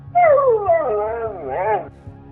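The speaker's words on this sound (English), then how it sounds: "It started with barking." A dog gives a single drawn-out, whining yelp with wavering pitch, close and fairly loud, lasting under two seconds over a low background hum.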